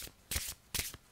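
Tarot cards are shuffled close up in three crisp riffling bursts separated by short pauses, faint and alone with no talking.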